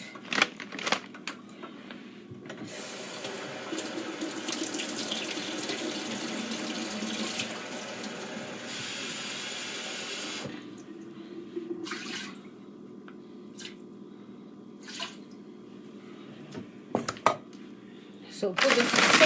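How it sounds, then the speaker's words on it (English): Water runs from a tap into a cooking pot in a kitchen, a steady rushing stream lasting several seconds, preceded and followed by clinks, knocks and handling noises nearby. "I put water in it to cook it."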